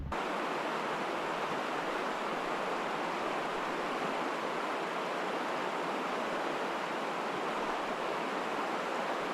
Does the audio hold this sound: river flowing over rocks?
yes